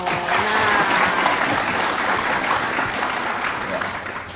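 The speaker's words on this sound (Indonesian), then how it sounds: "Tepuk tangan boleh loh." Studio audience applauding on an Indonesian TV talk show, a steady dense wash of clapping that holds loud for several seconds and tapers slightly at the end, with no talk over it.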